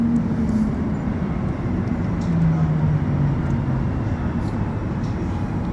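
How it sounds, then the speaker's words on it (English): Steady low rumble of a Montreal Metro Orange Line train running between stations late at night, a continuous loud underground roar with a faint tonal whine shifting in pitch and no talk. "And take a metro ride from Crémazie to Lionel-Groulx. We're on the Orange Line"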